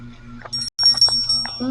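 A high, thin bell rings in several short bursts, mixed with people talking in a noisy setting.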